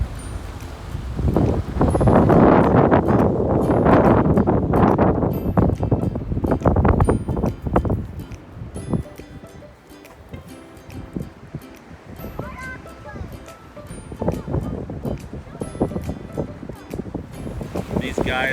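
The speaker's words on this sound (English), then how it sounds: "Really windy out here." Strong wind on the Lost Coast buffets the microphone in heavy gusts that rise and fall, loud at first and easing later, with a voice talking intermittently over it.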